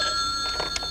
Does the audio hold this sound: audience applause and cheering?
no